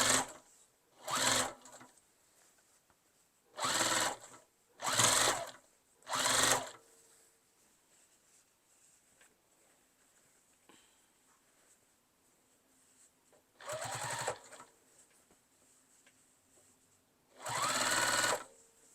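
Sewing machine top stitching an iPad case, six short separate bursts of whirring stitching with quiet gaps between them, close and clear.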